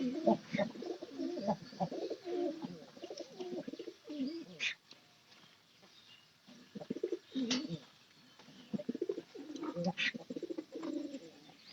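Pet pigeons coo close by in soft, repeated rounds with brief pauses, leaving quieter gaps between the bursts of calls.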